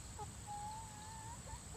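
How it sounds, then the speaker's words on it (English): Soft, sporadic clucks from chickens at a distance, faint against a steady background hum. "The chickens want to get in on this conversation here."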